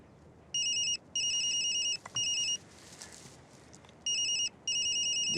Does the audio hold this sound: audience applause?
no